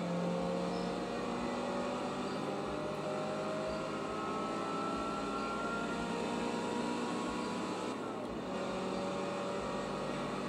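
A car engine drones in Forza 2 gameplay, a steady, continuous engine tone with shifting pitch lines held at a moderate level, no talking.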